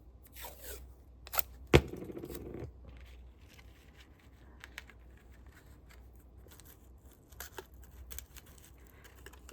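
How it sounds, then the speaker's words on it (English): A few quiet snips of scissors cutting paper, with a brief rustle and scattered faint clicks in an otherwise quiet room. "Need scissors now."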